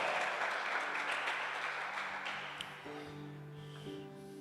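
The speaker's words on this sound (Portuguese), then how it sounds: "Você pode aplaudir o Senhor em nome de Jesus?" A church congregation claps at a Sunday service, a broad wash of applause that fades over a few seconds as a sustained keyboard tone comes in.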